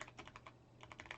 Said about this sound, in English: Typing to Constance, letting her know that next week will be the second to last session